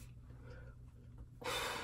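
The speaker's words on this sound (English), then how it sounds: "final touch, I'm gonna spray my face." After a soft breath, a short loud hiss of mist sprayed onto a face bursts out close by and continues to the end.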